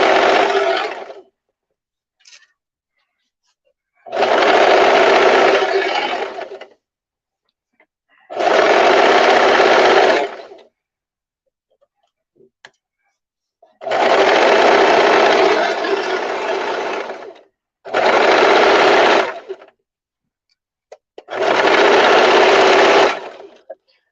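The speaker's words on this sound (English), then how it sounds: "Now when you sew, don't forget to do a back stitch at the top and the bottom." A sewing machine stitches a skirt side seam in six separate loud, steady runs of a few seconds each, with short silent pauses between them.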